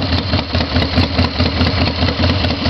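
A 1997 Harley-Davidson Softail Custom with an S&S carburetor idles close by, a loud, steady, lumpy engine rumble with an even pulsing beat and no voices.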